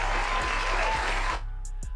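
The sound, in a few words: round of applause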